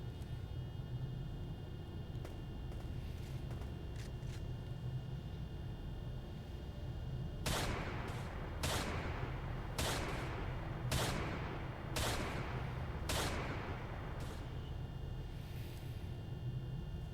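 Gunfire in a military combat video game, a series of about six sharp, fairly loud shots at roughly one-second intervals over a steady low rumbling background, with faint scattered shots earlier on.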